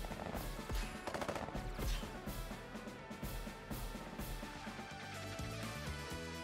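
Units trading fire on the enemy in Advance Wars 1+2 Re-Boot Camp, with rapid machine-gun bursts and crackling gunfire layered over game music, steady and moderately loud throughout.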